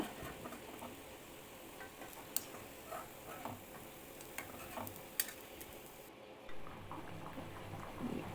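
Wheat-flour shankarpali pieces frying in hot oil, a steady soft crackle and bubbling with occasional sharp ticks and clinks, fairly faint and close, no voices.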